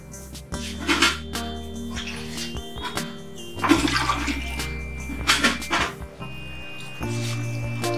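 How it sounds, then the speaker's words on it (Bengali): Water is poured into a pan of fish curry (tel koi) as it cooks, splashing and gurgling close by in a few bursts among clinks of the pan, with no talking. "এর মধ্যে আরেকটু জল দিয়ে দিলাম"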